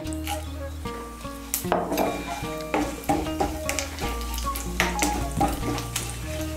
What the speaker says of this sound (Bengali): ফোড়নটা দিয়ে একটু নাড়াচাড়া করে নেব।